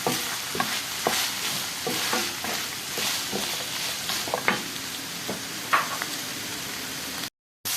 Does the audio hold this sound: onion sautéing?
yes